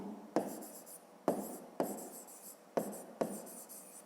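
Pen writing by hand in a notebook during a fifth-grade math exercise, with short scratchy strokes coming in quick bursts, close and quiet.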